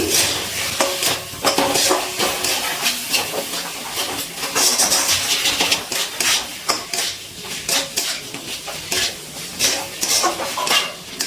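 Fried potatoes with spices stirred in a pan for a cauliflower and duck egg curry: repeated scraping and clinking of a spatula against the metal pan in uneven bursts, with a faint sizzle underneath.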